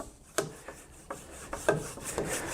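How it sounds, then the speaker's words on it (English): A bar of soap rubs back and forth along a metal saw blade, giving a series of soft, close scraping strokes with sharp starts at irregular intervals. "Use a bit of soap on your saw. Go backwards and forwards with the soap a bit."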